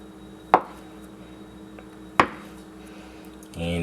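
A knife slices through a block of Velveeta cheese on a cutting board, two sharp, close thuds about a second and a half apart, with a faint shuffle at the end.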